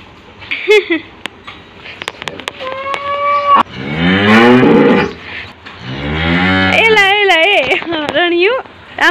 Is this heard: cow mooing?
yes